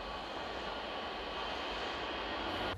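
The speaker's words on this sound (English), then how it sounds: "Can this plane take off without energy?" A large airplane engine roars steadily during takeoff, a loud, dense, continuous rushing drone that cuts off abruptly at the end.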